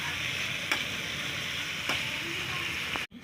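Fish bhuna frying in a pan gives a steady, close hiss of sizzling oil, with two brief clinks of stirring and a sharp knock right at the end; no one talks.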